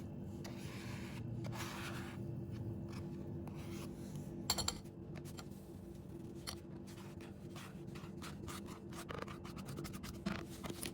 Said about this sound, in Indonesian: ini sekarang kita masukkan ini bubuknya green tea sama tepung terigu, kita ayak